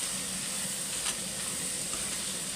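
Broad beans stirred with onion, garlic, turmeric, chilli and salt in a hot pan, giving a steady, soft sizzling hiss that runs evenly throughout.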